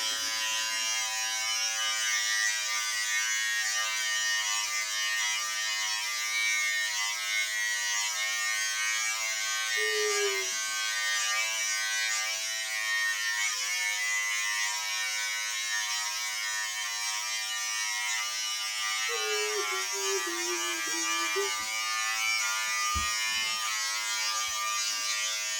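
A beard trimmer buzzes steadily and closely as it shaves legs, a constant electric whir with slight pitch dips as the blades press against skin.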